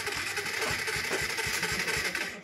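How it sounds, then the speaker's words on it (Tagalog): A motorcycle engine with loose compression labours and chugs in an uneven, pulsing rhythm at close range, struggling as it tries to start and settle into a rough idle, then fades slightly at the end. "si boss na nag-start, hirap talaga ang motor"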